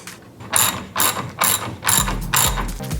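A ratchet tightening a nut with washer and lock washer onto a garden gate post bolt, clicking in five loud, close bursts of rapid pawl ticks, evenly spaced, no talking.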